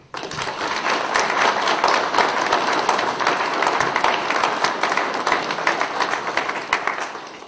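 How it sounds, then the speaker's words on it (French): A crowd at a town hall inauguration in Velines applauds for several seconds, a dense, lively patter of many hands clapping that holds steady before tapering at the end. "Je crois qu'on peut les applaudir."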